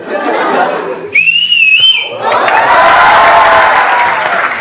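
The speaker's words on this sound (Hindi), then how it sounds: "सर आपके लिए एक सीटी मारना चाहती हूँ" An audience member lets out a loud whistle between roughly 1 and 2 seconds at a seminar, bracketed by steady crowd applause and cheering before and after.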